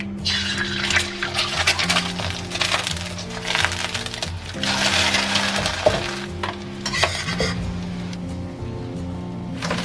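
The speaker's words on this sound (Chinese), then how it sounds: "我们用铁锅煎荷包蛋。" A sunny-side-up egg fries in an iron wok, a continuous hissing sizzle with occasional light clicks, over a steady tonal music bed.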